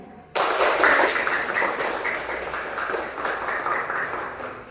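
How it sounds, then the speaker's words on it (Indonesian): A classroom of students claps for themselves in a burst of applause that starts suddenly and continues as a steady patter of many hands, fairly close and moderately loud. "tepuk tangan dulu kembali untuk diri kita sendiri"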